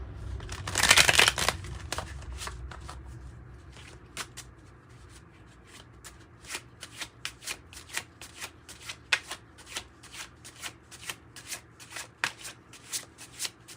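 Oracle cards shuffled by hand during a reading: one loud riffle burst near the start, then a long run of quick, crisp card slaps and flicks in an irregular rhythm, close and clear with no talking.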